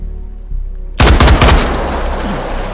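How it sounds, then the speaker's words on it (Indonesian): A rapid volley of gunshots rings out abruptly after a quiet rumble as Bond shoots Safin in No Time To Die, several loud cracks in quick succession followed by a lingering reverberant tail. "Bond kemudian menembak Safin hingga tewas."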